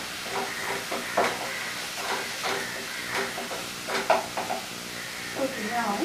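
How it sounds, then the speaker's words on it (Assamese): Jackfruit seed kofta mixture with a little salt sizzles in a pan while being stirred, with uneven scraping strokes over continuous frying hiss at close range. "মই ভাজি থাকিম"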